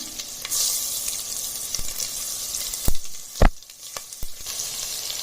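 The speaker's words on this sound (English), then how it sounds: "then to it we will add the stuffed ivy gourd." Stuffed ivy gourds hiss and sizzle as they drop one at a time into hot oil in a pressure cooker, with steady frying crackle and a few sharp louder bursts as each piece lands and is stirred.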